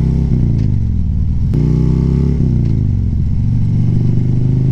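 A Harley-Davidson Road Glide motorcycle cruising at night, its engine a loud, close, continuous rumble that rises and falls through several gear changes.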